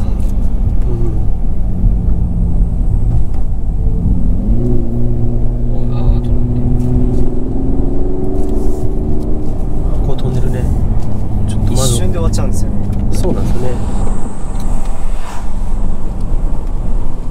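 A 2018 Mercedes-Benz CLS450 is heard from outside, its engine note rising and falling through revs under a constant rumble of wind. People talk over it throughout.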